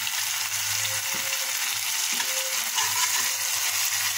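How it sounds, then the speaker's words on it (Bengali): Masala for hilsa fish dopiaza sizzles and fries steadily in a pan, a dense, continuous crackle with faint scraping and stirring sounds beneath it and no talking. "মশলাটাকে ভালো করে কষিয়ে নিতে হবে।"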